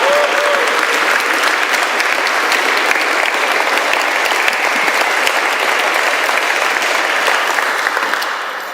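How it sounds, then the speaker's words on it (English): A conference audience gives loud, sustained applause to welcome the speakers, a dense wash of clapping that holds steady for several seconds before starting to fade. "could we start off by just giving a thundering applause and welcome"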